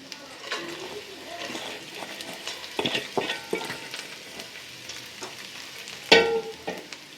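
Red lentils (masoor dal) tipped into a pan of fried onions and stirred, a steady low sizzle with scraping spatula strokes and a louder clatter near the end.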